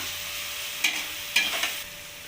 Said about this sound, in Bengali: এবার মশলাটাকে আমি ভালোভাবে কষিয়ে নেবো